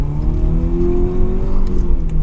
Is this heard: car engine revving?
yes